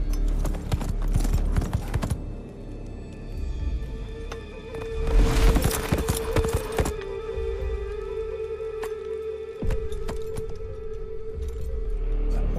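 Horse hooves in Assassin's Creed 3 clop along at a close, loud pace, with heavy clattering bursts in the middle and a faint tonal hum underneath.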